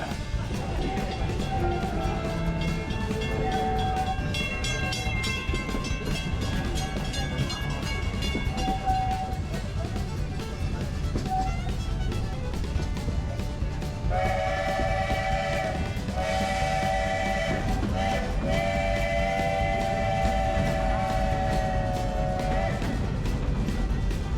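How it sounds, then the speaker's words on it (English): A theme park steam train at Walt Disney World's Magic Kingdom rumbles steadily along with a chugging low drone, and its whistle sounds in long, loud harmonic blasts partway through. "Please keep your arms all the way inside the train."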